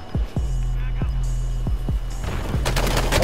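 Gunfire in the video game Warzone: a run of sharp, booming shots spaced irregularly, then a denser rapid burst at the end, loud and close over a steady background hum, with a voice talking underneath.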